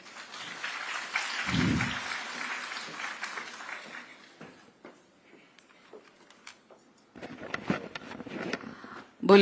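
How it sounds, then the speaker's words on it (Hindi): Audience applause welcoming a cabinet minister to the stage at an award ceremony, a crowd clapping for several seconds that thins out and then swells again, with a brief low thump early on. "तालियों के साथ माननीय का स्वागत।"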